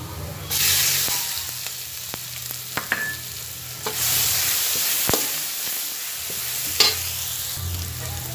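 Chili fries in a pan with golden-browned garlic, a loud sizzle surging as the chili hits the oil, with intermittent stirring scrapes and clicks.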